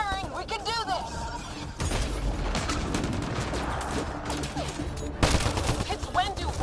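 Rapid gunfire from a Mass Effect: Andromeda firefight, dense automatic bursts and shots layered continuously with game effects, loud and close throughout, while a game character shouts over the battle.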